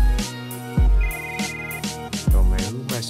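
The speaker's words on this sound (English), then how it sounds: "who messing up my flow with this phone call?" A phone ringtone rings in a musical pattern, loud and close, with repeated tones and deep bass hits as a call interrupts a hip-hop session; no one speaks over it.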